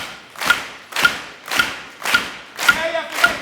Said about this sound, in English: Clap your hands, awake your ancestors.